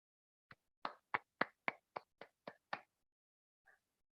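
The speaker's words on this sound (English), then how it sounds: "Let's clap ourselves for wonderful meditation." Nine sharp claps in a slow, even rhythm from a small meditation group in Watford, UK, fairly close and alone in a quiet room, followed by one faint tap after a pause.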